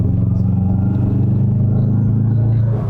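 A Subaru WRX STi with about 182,000 miles idles close by, its flat-four engine putting out a steady, throbbing low rumble with an even pulsing beat and no revving, loud and without talk.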